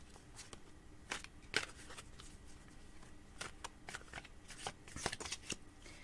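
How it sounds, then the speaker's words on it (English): A deck of tarot cards is shuffled close by, a quiet series of crisp riffling flicks and soft slaps in irregular bursts, with no speech. "So let me get on with shuffling these cards."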